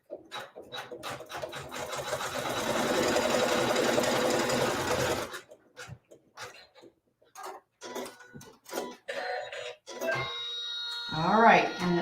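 A sewing machine runs steadily for about five seconds, stitching the final seam of a Town & Country row quilt, followed by softer clicks and handling sounds and a brief tonal chirp near the end.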